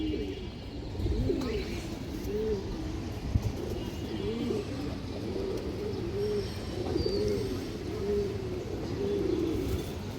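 Pigeons cooing close by in a loft, a pair of large fancy pigeons giving repeated rolling coos in a steady rhythm over faint background noise.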